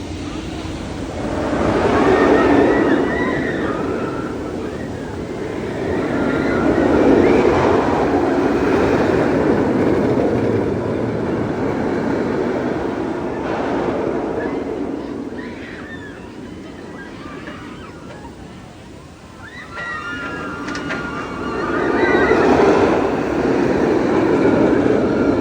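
Mr. Freeze Reverse Blast roller coaster at Six Flags St. Louis, a loud rumbling roar of the train rushing along its track that swells and fades in waves, with crowd noise in the background.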